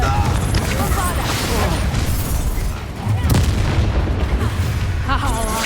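Explosive spell blasts in a Hogwarts wizarding video game, a dense barrage of booms and crashes that keeps going with a sharp burst near the middle, voices mixed into the din.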